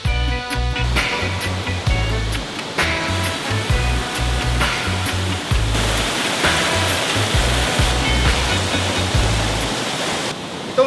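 A multi-tiered waterfall in Burgos, Ilocos Norte, spills into a deep blue pool with a steady, close, full roar of rushing water, while a low rhythmic thumping pulses underneath throughout.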